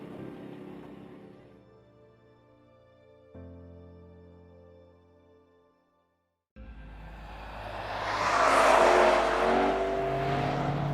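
Onboard a Lexus RC F on a racing circuit: steady engine drone shifts down and briefly drops out, then the engine bursts back in and rises to a loud, rising roar under acceleration.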